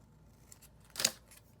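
Scissors make one short, crisp snip while trimming paper for a small inchie art piece, faint and close against a quiet room.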